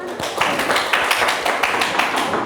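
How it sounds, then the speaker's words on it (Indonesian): A student group in a classroom receives applause, with a brief burst of clapping from several people close by and a dense, steady patter of claps throughout. "Tepuk tangan dong untuk kelompok Churros."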